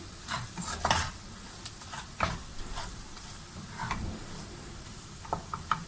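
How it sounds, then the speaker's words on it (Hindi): A spoon stirs lady finger (bhindi) salan in a pan with red chili and salt, soft scraping strokes over a gentle sizzle, close and fairly quiet, with no talking. "इसको मैं थोड़ा सा चलाऊंगा चमचा"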